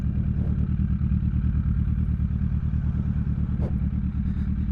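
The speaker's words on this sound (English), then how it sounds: "I am so cool on my motorcycle." A motorcycle engine idles with a steady, throbbing low rumble, close by and continuous, with a faint clatter partway through.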